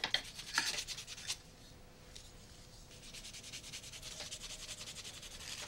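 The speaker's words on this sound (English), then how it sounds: "if you keep sanding that wood down any further" Steady rhythmic scratching of sandpaper rubbed back and forth over wood, fairly quiet and close, with no voices.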